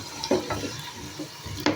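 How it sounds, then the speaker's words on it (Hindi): Potato pieces fry with onions in a pan over low to medium heat, giving a soft sizzle with a few light stirring scrapes and clinks, close and fairly quiet. "अब आलू को लो टू मीडियम पे फ्राई करेंगे"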